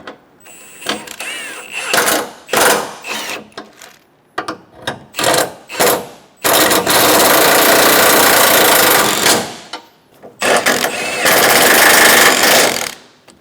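Bolts on a side bumper bracket of a 2014-2018 Chevrolet Silverado 1500 being run down with an impact or power tool, several loud rattling bursts of varying length, close up, with no talking.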